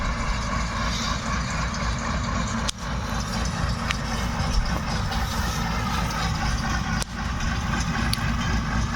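A tractor engine runs steadily at low revs, around 1100 rpm, while driving a forage wagon collecting grass for haylage; a continuous close drone with a couple of brief knocks, no voices.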